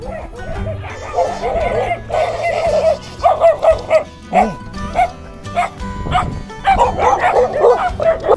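A dog barks and yips in a rural area near a cenote in Chiapas, Mexico, a few moderately close bursts with soft whining between them and some voices in the background.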